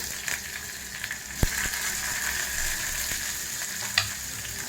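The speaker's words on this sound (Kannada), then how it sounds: "ಈರುಳ್ಳಿ ಸ್ವಲ್ಪ ಫ್ರೈ ಆಗಲಿ" Onion frying in hot oil with cumin in a pan for drumstick sambar: a steady, close sizzle runs throughout, with a few brief knocks and scrapes of stirring on top.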